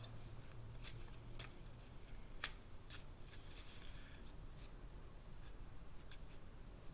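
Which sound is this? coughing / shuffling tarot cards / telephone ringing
shuffling tarot cards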